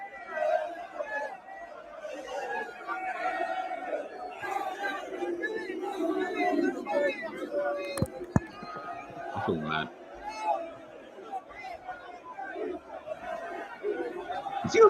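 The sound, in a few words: United fans shouting at the Liverpool team bus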